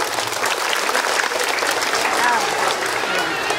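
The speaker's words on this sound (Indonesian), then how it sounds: "tepuk tangan" Sustained clapping from an audience at an International Children's Day ceremony at a school in Aceh Besar, dense and steady for several seconds with a faint crowd murmur.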